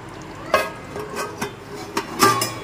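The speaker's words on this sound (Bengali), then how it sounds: "একটা ঢাকনা দিচ্ছি আলু সিদ্ধ হওয়ার জন্য আর ঝিঙেটা সিদ্ধ হওয়ার জন্য ঢাকনা দিয়ে ঢেকে নিচ্ছি" A lid going onto a cooking pot of potatoes and ridge gourd, a few light metallic clinks and taps spaced irregularly at close range over a quiet kitchen background.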